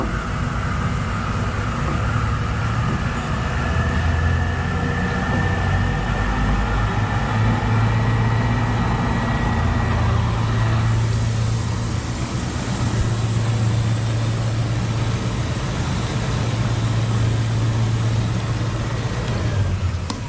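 A horizontal bandsaw motor runs steadily for the whole stretch, a loud, even machine hum with a low throb that pulses slightly. No one speaks over it.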